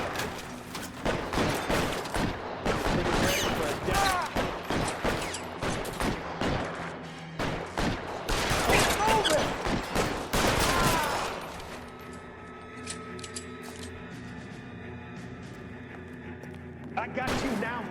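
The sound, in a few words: gunfire in a shootout, L.A. Noire video game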